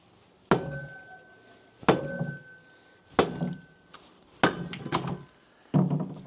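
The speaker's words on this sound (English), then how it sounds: "Take it a few whacks here with a 4-pound sledge." A 4-pound sledgehammer strikes a King Kindling Cracker firewood splitter five times, each a sharp metallic clang with a ringing tone and woody crack, evenly spaced about a second apart, close and loud.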